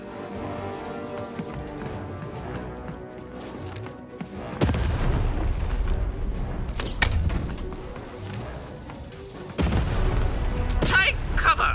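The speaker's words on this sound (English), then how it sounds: "Shoot the button to fire the cannon." Heavy booming cannon blasts from the Lost in Random video game, deep low rumbles hitting at a few points over continuous game music and sound effects, with a voice briefly heard.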